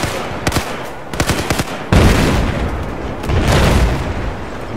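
Tank guns fire in multiplayer Battlefield 4: a quick string of sharp shots, then heavy booming blasts with a rolling, rumbling tail. The bursts are loud and close, and no one speaks.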